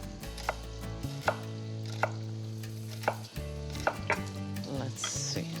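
A knife chops broccoli on a board in steady, evenly spaced strokes, about one cut per second, close and distinct over a low background hum.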